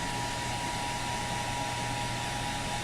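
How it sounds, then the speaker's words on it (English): Hair dryer blowing steadily, a constant loud airy whoosh with a faint motor whine, unbroken and close, with no talk. "a little bit of hair dryer action"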